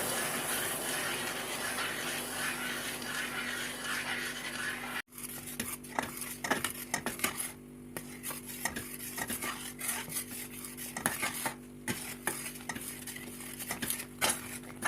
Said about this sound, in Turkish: Karıştıraraktan istediğim kıvama gelene kadar pişiriyorum